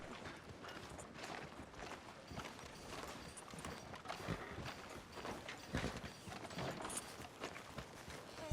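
Horse hooves walking in Red Dead Redemption 2, a soft steady clip-clop under faint ambient town noise, fairly quiet throughout.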